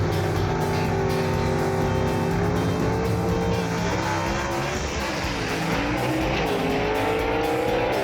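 A 1963 Comet and a 1960 Ford Falcon gasser launch in a drag race, engines roaring loudly and climbing in pitch through the gears, with tires squealing and a steady, dense blast throughout.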